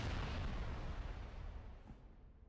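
Explosions from the Warthog run in Halo 3 form a heavy, booming blast with a deep rumble that gradually decays over a couple of seconds, with no talking.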